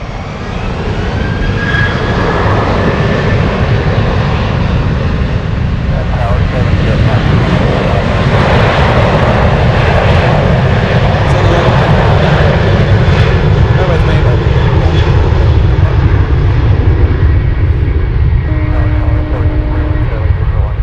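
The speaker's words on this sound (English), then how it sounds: "runway 15 Sierra, cleared for takeoff" Boeing 747 Dreamlifter cargo jet taking off from a runway at Anchorage airport, a loud continuous engine roar that builds and holds steady throughout, with brief radio or voice sounds faintly beneath it.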